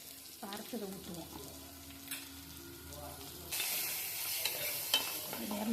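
Ground masala paste poured into a hot pan of spiced vegetables (cauliflower, peas, carrot, potato) and stirred; soft sizzling and spoon scrapes give way to a louder, sustained frying hiss, with a voice speaking over it early on.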